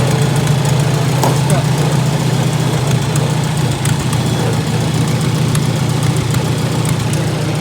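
A Farmall Super A tractor engine runs at a steady idle, with a loud, continuous low throbbing rumble and mechanical clatter close by.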